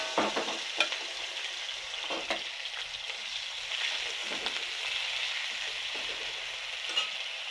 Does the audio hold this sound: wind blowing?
no